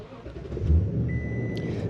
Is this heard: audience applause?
no